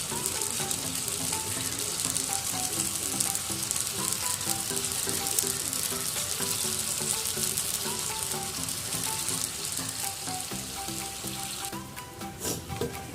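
Chicken labanga latika simmering in a covered pan with a little added water, giving a steady, close, dense bubbling sizzle that runs unbroken throughout with no voices.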